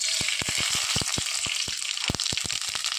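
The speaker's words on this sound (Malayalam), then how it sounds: "വെളിച്ചെണ്ണ ചൂടായി വരുമ്പോഴേക്കും നമ്മൾ എടുത്ത് വെച്ച കടുക് ചേർത്ത് കൊടുക്കാം" Mustard seeds pop sharply in rapid, irregular bursts over a constant hiss of hot oil, loud and close up.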